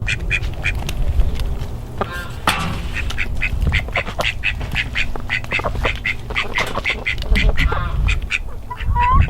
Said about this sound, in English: There's 2 chickens, 2 ducks, and a couple of quail.